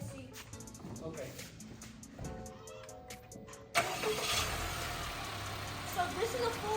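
A car engine cranks and catches midway, the starter whir giving way to a loud steady idle that carries on to the end, with a person talking before it starts.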